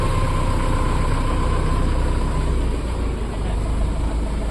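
Mahindra tractor engine idling steadily at a showroom, a continuous low diesel rumble that stays close and even throughout with no talk over it.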